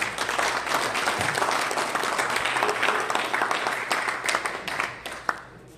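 A church audience applauds to welcome a pastor, a loud, dense burst of clapping that carries steadily, then thins and fades out.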